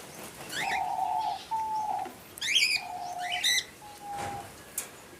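Diamond doves coo in an open aviary, several soft, even hoots in a row with bright chirps scattered between them, close and clear.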